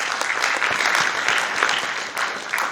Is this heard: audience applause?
yes